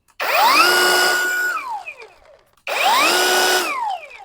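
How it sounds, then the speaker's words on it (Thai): A CANLIDI CIC-A cordless chainsaw with a brushless motor, on a fully charged battery, whines up to a high steady pitch, winds down, then spins up again in a second loud burst, close by. "มาลองฟังเสียงเจ้าเลื่อยตัวนี้กันครับ"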